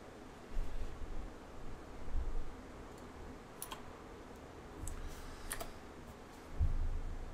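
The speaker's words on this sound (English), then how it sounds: "type this in and press enter." Typing on a computer keyboard and pressing enter, a few scattered soft key clicks over faint background hiss and low thumps, quiet and close.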